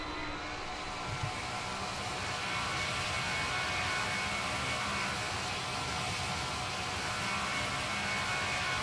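An airplane taking off in the Roblox flight game PTFS, a steady, loud engine roar with a broad hiss that holds throughout, and no talking.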